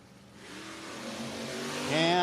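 A '73 Duster and a Mustang called Hang 'em High leave the line in a drag race, their engines roaring steadily louder and rising to a harsh high-revving peak near the end. A commentator talks over it.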